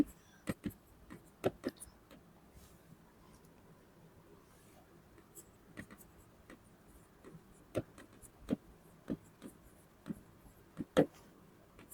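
Chalk or marker strokes on a board during a maths lecture, sparse sharp taps and short scratches scattered irregularly across a quiet room, faint and close, without speech.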